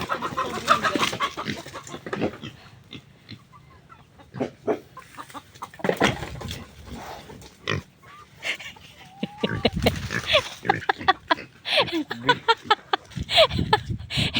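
Chickens cluck and squawk in bursts at feeding time in a roomy farm pen, some calls close and loud, others scattered farther off, with short quiet gaps between them.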